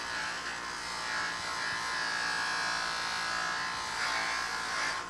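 Buffing wheel polishing chrome parts during a motorcycle restoration, a continuous loud high-pitched whirring grind held steadily at close range, no speech.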